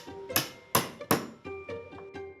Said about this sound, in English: I'm using a router for speed and a hammer and chisel for finesse to carve out corners from each leg